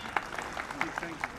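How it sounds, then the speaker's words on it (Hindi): A school prize-giving audience claps for a class 12 student, a quiet, fairly sparse patter of hands heard from a distance with distinct individual claps standing out. "इनके लिए जोरदार तालियां।"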